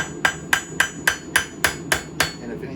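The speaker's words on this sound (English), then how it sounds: "So kind of like hammering in a bevel" A hammer strikes a knife blade to form its bevel, eight sharp metallic blows at an even, steady pace of roughly three per second, each ringing briefly, close and loud with no talking.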